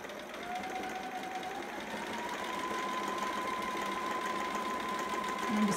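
A sewing machine stitches folded fabric along an edge, giving a faint, steady motor whir with a rising whine that runs continuously for several seconds without speech.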